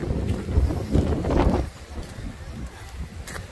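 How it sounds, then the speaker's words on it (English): Gusty wind buffets the microphone outdoors on a rainy day by the narrow gauge railroad in Portland, Maine, with strong rumbling bursts at first that ease into lighter, uneven gusts. "Wind almost took it away."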